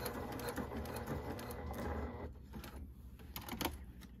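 A Brother PQ1500SL sewing machine stitches through thick layered material, running in a fast steady mechanical chatter that slows and breaks into a few separate clunks toward the end, close and fairly loud.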